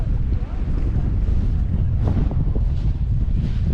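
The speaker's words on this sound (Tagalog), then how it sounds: "Malakas ang hangin." Strong wind on an island shore with rocks buffets the microphone in a constant roar, with faint water movement underneath.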